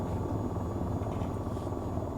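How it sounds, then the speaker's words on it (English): An AH-94 attack helicopter in the VTOL VR flight game gives a steady, dense rotor and engine drone at cruise speed, continuous and loud with no voices. "It's a helicopter."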